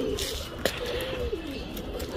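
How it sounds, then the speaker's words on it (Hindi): Soft pigeon coos murmur under a steady background hum, with a brief sharper call near the middle, as high-flying pigeons gather at feed. "तो ये देखिए दोस्तों सारे कबूतर जाके लग गए हैं"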